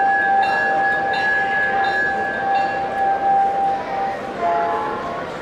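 A steady horn from a G scale model NW diesel train pulling two tank cars on a garden railway at a train show sounds over a continuous rumble of rolling cars, sustained and fairly close, with faint clicking along the track.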